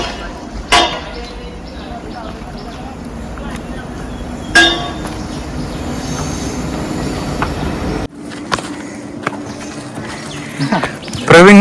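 A train passes near the Karjat–Lonavla railway tunnel, its loud, continuous rumble and rattle carrying high wheel squeals and a few sharp clanks. The noise drops suddenly partway through, then resumes.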